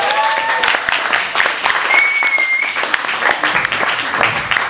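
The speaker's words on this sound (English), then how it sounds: "So have a round of applause." Audience applause for two guitarists at a concert, scattered claps mixed with whistles and cheers, lively and close for several seconds.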